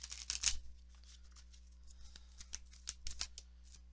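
Tarot oracle cards are shuffled and drawn, giving soft, close riffling bursts and light flicks of card stock, quiet and alone over a faint steady hum.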